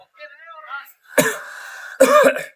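A person speaks briefly, then lets out two harsh, close coughs, the second a rough double burst.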